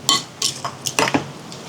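Vegan hearts of palm ceviche with garlic is stirred in a bowl, giving a few quick clinks and wet scrapes of utensil against dish, close and alone in a short burst.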